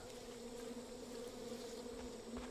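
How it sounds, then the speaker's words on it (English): Flies buzz around rotting flesh in the video game Far Cry 5, a steady droning hum with a few louder passes as insects move near, no talk over it. "I hear flies buzzing around."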